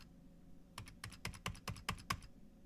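A computer keyboard is typed on at close range, a quick run of about a dozen crisp key clicks over a faint steady hum, with no voices.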